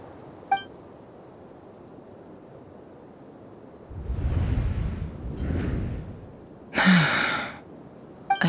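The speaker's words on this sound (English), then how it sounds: "I heard Yehoda gasp" A character in the Genshin Impact video game gives a breathy gasp, followed by a second softer breath and then a brighter, sharper intake, with faint chimes around them and no speech.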